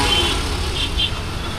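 Busy evening street traffic roars past a pedestrian walking beside the road, a dense, continuous wash of engine rumble and road noise with a couple of faint horn toots in the distance.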